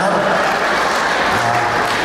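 Applause from guests at a wedding celebration, a dense, steady clatter of many hands clapping, loud and continuous with a hint of crowd noise underneath.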